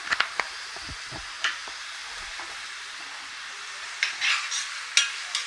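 Onion with a pinch of salt fries in a pan, a steady soft sizzle running underneath while a utensil scrapes and stirs in short bursts near the start and again toward the end.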